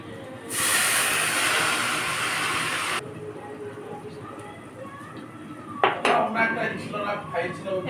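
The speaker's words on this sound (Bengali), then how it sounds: "শাকটাকে ধুয়ে নেব।" Bitter jute leaves are washed in a pot under a gushing stream of tap water, followed by clattering metal and splashing as the leaves are stirred and rinsed close by.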